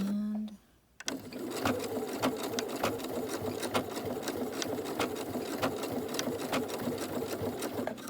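A sewing machine runs steadily for several seconds, stitching the edges of a cloth face mask, its rapid needle pulses close and continuous after a brief quiet start.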